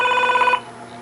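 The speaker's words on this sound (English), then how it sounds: "Oh, there's the phone call." A telephone rings with a bright electronic warble that stops about halfway through, leaving quiet room tone.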